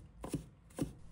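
Knife chopping crushed fresh ginger into mince on a cutting board: two distinct close chops, evenly spaced, alone with no voices.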